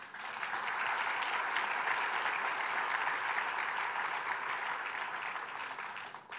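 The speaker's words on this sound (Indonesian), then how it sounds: "Saya kira kalau tepuk tangan jauh lebih baik lagi." A church congregation applauds during a sermon: dense, steady clapping that holds evenly for about six seconds, with no voices over it.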